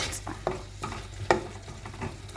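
Vegetables stir-fried with oyster sauce in a pan, a quiet sizzle under repeated spatula scrapes and soft clinks in an uneven rhythm.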